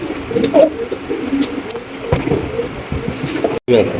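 Pigeons at a pigeon farm giving soft, repeated throaty coos close by, several birds overlapping in short bursts against a faint background hum with a brief dropout near the end.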